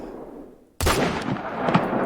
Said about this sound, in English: we'll listen to both them gunshots again